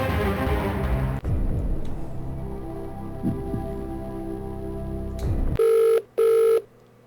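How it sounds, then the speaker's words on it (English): Telephone dialing tones for the phone-a-friend lifeline in the Game Boy Advance Who Wants to Be a Millionaire quiz game: two loud, steady electronic tone bursts near the end follow a low humming musical backdrop. "now I gotta do phone a friend before I answer the question"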